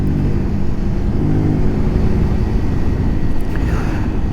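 A Zontes ZT125-U1 125cc motorcycle rolls off from about 50 kph, with a loud steady engine note and heavy wind rumble throughout.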